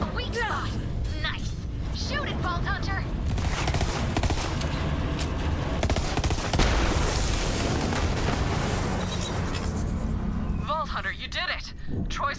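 Rapid gunfire and explosive booms from the Borderlands 3 video game during a boss fight, dense and continuous throughout, with game character voices talking over the chaos.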